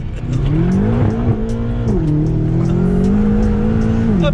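A loud, heavily modified car spins its wheels, the engine droning steadily near the microphone while the tyres squeal under it.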